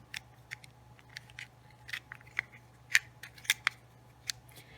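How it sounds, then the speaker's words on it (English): Rifle cartridges for a Savage Axis in .450 Bushmaster are pushed down and slid into a modified magazine, giving a string of small, close, sharp metallic clicks and snaps over a low steady hum. "when loading these things, I just push down on the back and slide it in, and then the same deal with the second one"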